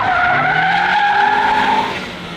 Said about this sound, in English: we're gonna trigger an oversteer, a controlled oversteer